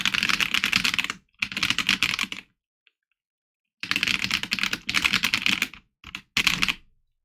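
Rapid typing on a new mechanical keyboard, picked up from a distance on the desk: several quick bursts of clattering keystrokes separated by short pauses, moderately loud, with no talking.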